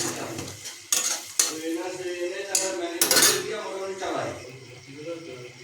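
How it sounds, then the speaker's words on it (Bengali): Spices sautéed in a pot for mutton ghugni, a spoon scraping and clinking against the metal repeatedly over a light sizzle, with some muffled voice. "মিনিট দুয়েক ধরে কষাতে থাকবো"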